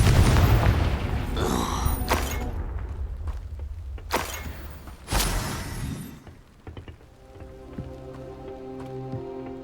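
Fiery blasting spell explosions in Hogwarts Legacy, a booming burst at the start followed by several sharp cracking impacts and debris-like clatter, then fading rumble.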